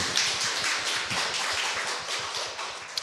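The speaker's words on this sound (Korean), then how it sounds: "여기서 황희석 변호사님께 박수 한번 보내드리죠" An audience at a live public broadcast applauds for a lawyer, a dense, fairly faint patter of clapping that holds steady for a few seconds.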